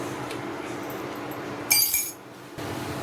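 A brief, bright clink of glass or cup rings out while coffee is made in a home kitchen. It sits over a steady background hiss, and the kitchen goes quieter right after.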